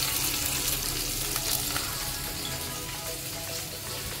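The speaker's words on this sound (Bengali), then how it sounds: "মাছ ফ্রাই হচ্ছে" Fish frying in a pan, a dense, even sizzle heard close up and unbroken for a few seconds.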